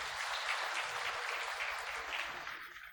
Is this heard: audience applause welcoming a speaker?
yes